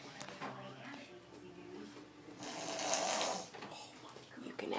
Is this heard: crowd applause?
no